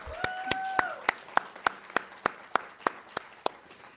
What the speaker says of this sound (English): And advisor starts off the clapping, Dr. Amber Lacrosse